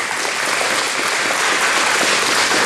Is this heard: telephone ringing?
no